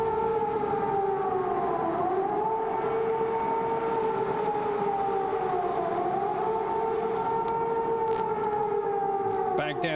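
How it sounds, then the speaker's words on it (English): A wailing air raid siren in Baghdad during the Iraq War rises and falls in long, slow cycles, sounding steadily from a distance over faint background noise. "Let's listen to the air raid sirens here."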